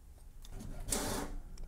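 An HP Smart Tank 5101 inkjet printer feeds and prints a document, giving soft mechanical rubbing and whirring that swells into a louder sweep midway, quiet and close with no speech.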